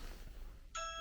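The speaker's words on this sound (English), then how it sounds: "Shall we press the bell?" A doorbell at an office reception sounds once with a bright electronic chime, coming in after a brief quiet moment.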